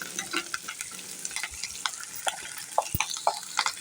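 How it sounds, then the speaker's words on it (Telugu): Onion, green chilli and curry leaves fried in a pan while being stirred, a low sizzle with frequent sharp clicks and scrapes of the spoon at an uneven rhythm, close by with no talking. "చక్కగా అటు ఇటు తిప్పుకుంటూ చక్కగా వీటిని ఫ్రై చేసుకోవాలి."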